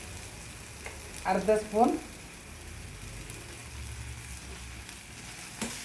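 Pepper powder sizzles softly in a pan while dal fry is cooked, a faint steady frying hiss with a brief stirring scrape, as a person speaks briefly over it.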